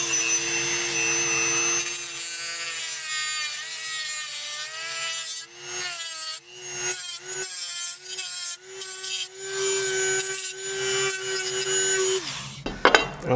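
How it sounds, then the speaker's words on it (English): A Dremel tool fitted with a metal cutting wheel cuts into a pistol magazine, making a loud, high whine that runs continuously and shifts in pitch. It breaks into short grinding bursts as the wheel bites in and out near the end. "now I got my Dremel tool out with my metal cutting wheel on it, and we are going to make our little cut here."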